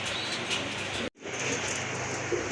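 A pair of pigeons coos softly amid a constant noisy backdrop, with a brief cut partway through.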